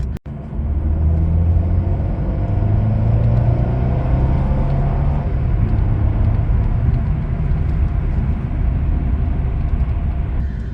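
Mercedes car accelerating after a gearbox reset, a steady low engine rumble with road and drivetrain hum that builds and holds loud and close, no talking.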